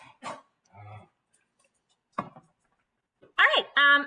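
A dog named Copper gives a few sharp, close barks among short bursts of a person talking and scattered ticking sounds indoors.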